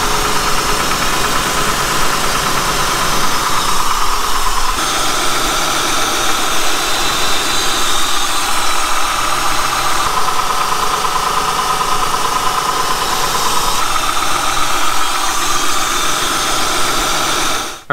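Honda engine idling, heard before and after a valve adjustment, with a steady close mechanical clatter and ticking over a continuous hum, loud and without talk.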